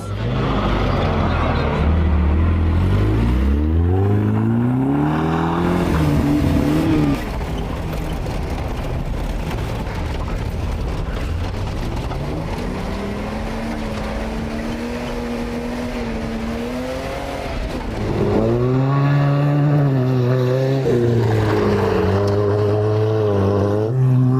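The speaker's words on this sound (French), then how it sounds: "La voiture qui va vite." A fast car at a sports festival in Lunel roars loudly and continuously, its engine revving up and down through repeated rising gear sweeps, close and dominant throughout.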